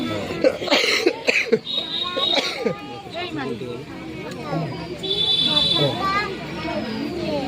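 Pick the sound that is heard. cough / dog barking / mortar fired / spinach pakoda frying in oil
cough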